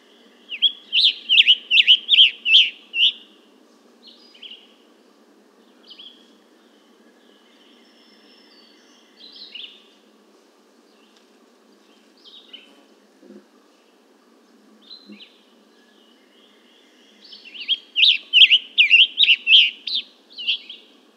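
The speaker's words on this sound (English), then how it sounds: "And a scarlet tanager from 120 feet away." A scarlet tanager sings from about 120 feet away, picked up with a parabolic microphone: clear, bright bursts of rapid burry phrases at the start and end, with softer scattered notes between over a low steady hum.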